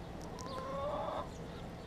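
Chickens at a west Texas RV park give a brief, fairly close clucking call in the middle, over a steady background hum with no talking.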